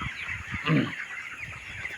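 Chickens on a poultry farm cluck softly inside a shed, with one fuller, louder call near the middle standing out over a steady background hum of the building.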